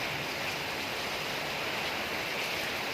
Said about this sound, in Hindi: लगातार 4 दिनों से बारिश हो रही है। काफ़ी तेज़ बारिश हो रहा है।